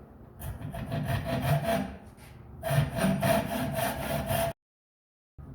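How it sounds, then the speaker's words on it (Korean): A hand saw cuts timber for a roof truss, rasping in rapid back-and-forth strokes, pausing once, resuming, then breaking off into silence, close and clear with no talk. "직각을 일단은 맞춰가지고 톱질을 해야 됩니다"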